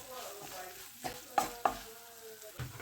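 Turmeric powder stirred in a hot pan for a Kerala-style long bean stir-fry: a quiet sizzle broken by a few sharp spatula taps and scrapes, close and fairly faint.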